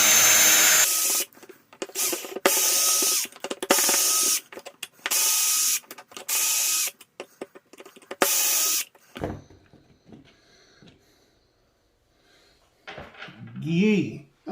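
Six screws come out of a Traxxas E-Revo RC truck's differential with a power screwdriver, which buzzes in repeated bursts, loud and close. A voice and faint handling noises follow.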